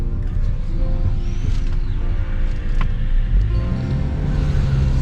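A used Hyundai Sonata New Rise on a test drive gives a steady low cabin rumble of engine and road noise, with a few faint creaks and rattles and no talking.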